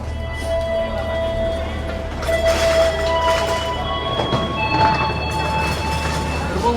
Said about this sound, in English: The madness of an Indonesian train station.